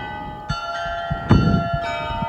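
Several resonant church bell strikes ring out in Liège, Belgium, each tone lingering and layering over the last, with a few dull knocks underneath.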